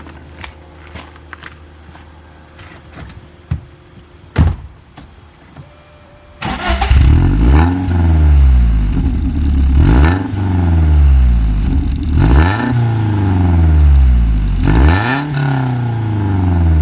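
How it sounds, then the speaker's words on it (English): BMW E36 318is Touring with a stainless steel back box and rear pipe, cranking and starting after a few quiet clicks, then revving repeatedly with a raspy, loud exhaust in rising and falling sweeps close by. "It does have a stainless steel back box rear pipe, so it sounds pretty raspy."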